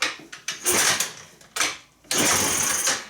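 An ATV's electric starter whirs in several short bursts, spinning freely without engaging the gear, so the engine never catches. Each burst is close and loud with a sharp start, separated by brief pauses.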